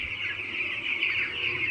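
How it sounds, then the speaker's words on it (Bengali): A flock of 600 broiler chicks, brought in on vaccination day at a brooding shed, keep up a dense, steady chorus of high peeping that runs continuously and fairly loud, with no voices over it. "ব্রয়লার মুরগির বাচ্চা।"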